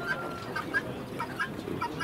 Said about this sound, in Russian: Ути, куры.